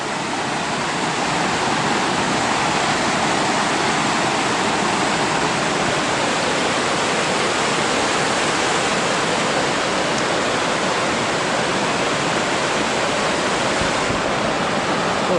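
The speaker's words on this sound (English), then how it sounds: "This is the falls itself." Waterfall on the Chattooga River in Rabun County, Georgia, a steady, loud, close roar of falling water that stays unbroken throughout with no voices.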